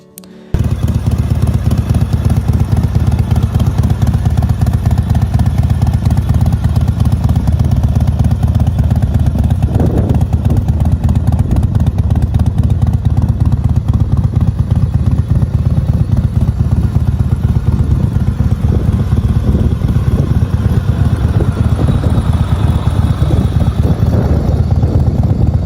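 A 1985 Harley-Davidson FXR, a customized build, idles and runs steadily up close with a deep, throbbing low-end rumble that holds loud and even from start to finish, with no voices over it.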